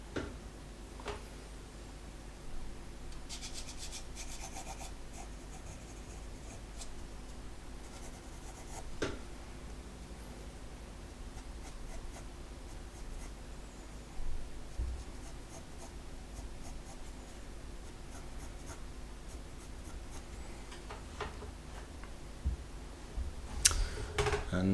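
Pencil shading on paper during a sketch of a home workspace, darkening the area over a workbench: soft, steady scratchy strokes near and quiet, continuing throughout with occasional sharper taps and no talking.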